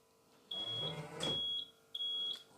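A Rolls-Royce Silver Spirit alarm system arms with three clear high electronic beeps, each a short sustained tone, heard close and alone against a quiet background.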